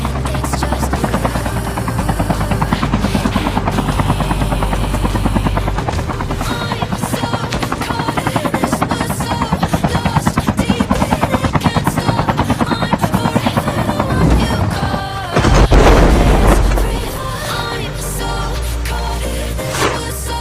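A helicopter flies in the mobile shooter Call of Duty: Mobile, a loud, steady rotor drone that fills the whole stretch, with game sound effects layered over it and a sharper surge near the end.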